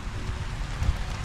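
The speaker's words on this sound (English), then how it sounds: "although it is raining" Rain falling on a farm in Thailand, a short steady hiss of drops with soft low thumps, heard alone without any talk.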